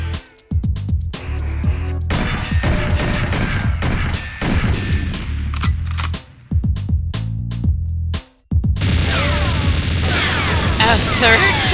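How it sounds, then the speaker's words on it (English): Automated gun turrets fire in the N64 game GoldenEye, loud dense bursts of rapid gunfire and explosive booms with brief gaps, mixed with game music and effects, and someone speaks over parts of it. "Right, one turret down, and one immediately after it."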